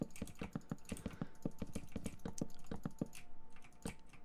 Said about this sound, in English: I apologize so much for the clickiness of this keyboard.